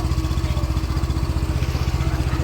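A Yamaha motorcycle engine runs steadily at idle, a loud, close, rhythmic thumping pulse that holds steady throughout with no talk.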